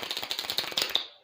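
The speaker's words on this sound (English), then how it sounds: "it shuffled the cards, and it did make the noise" Playing cards shuffled in one quick riffle, a close, dense run of crisp clicking flaps that rattles for about a second and then trails off.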